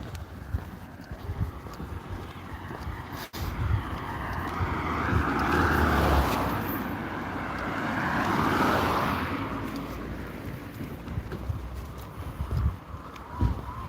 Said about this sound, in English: I apologize for the noises from the cars ahead of time